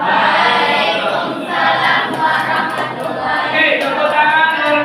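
Applause from a class of students in a classroom lesson, a dense, steady wash of clapping with crowd noise that swells and dips across the whole stretch, loud and close with no talk over it.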